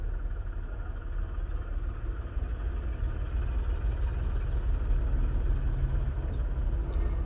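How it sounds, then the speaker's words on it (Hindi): A car engine idling after it has started, a steady low rumble at moderate level that runs without a break, with no talking. "सेल्फ मार दिया हूँ, तो मेरी गाड़ी हो चुकी है स्टार्ट।"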